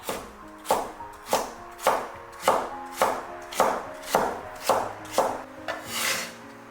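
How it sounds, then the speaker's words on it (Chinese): A knife chops carrot into small dice on a cutting board, about ten firm, evenly spaced strokes in a steady rhythm, close and clear with no talk. "然后先切厚片，再改刀切条， 最后同样给它切成小丁"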